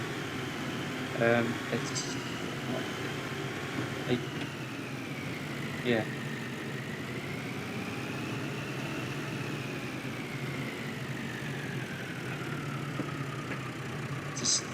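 A tractor engine idles steadily throughout with a low rumble and a wavering mid-pitched drone, while a person talks briefly near the start and a few faint knocks come through.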